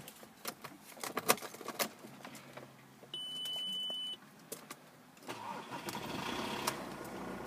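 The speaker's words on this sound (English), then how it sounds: "I'm just getting the car started up for you guys." A used car with 127,000 miles on the clock starting first time: key-on chimes and clicks, a beep, then the starter cranks briefly and the engine catches into a steady idle, close by.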